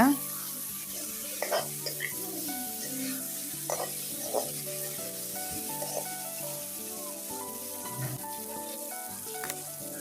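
Boiled eggs sautéed in a pan for egg curry give a soft, continuous sizzle with scattered clinks and stirring scrapes, close and fairly quiet, while a voice talks over part of it.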